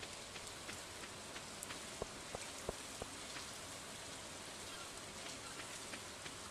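Steady soft rain hiss in the farming game Stardew Valley, a continuous wash of drops with a few faint plinks, quiet and unbroken throughout.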